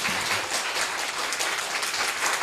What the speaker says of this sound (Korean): 우리 라온의 따뜻한 박수로 우리 장로님께 우리 환영할까요?